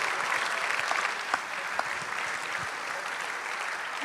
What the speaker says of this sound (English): I think that deserves a bit more applause than that